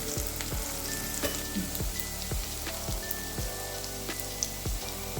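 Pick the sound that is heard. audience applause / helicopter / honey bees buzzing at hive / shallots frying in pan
shallots frying in pan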